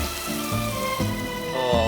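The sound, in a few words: mushrooms sizzling in cast iron, from video game Genshin Impact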